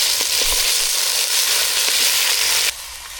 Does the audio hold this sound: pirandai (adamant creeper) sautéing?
yes